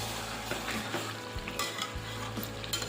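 Chicken and whole potato pieces fry without oil in their own released fat, giving a close, continuous sizzle with several scraping stirs of a spatula against the pan.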